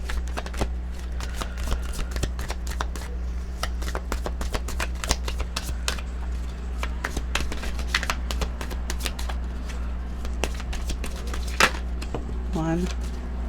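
A deck of cards is riffled and shuffled in a quick run of sharp, crisp flicks over a steady low hum, with a brief voice near the end.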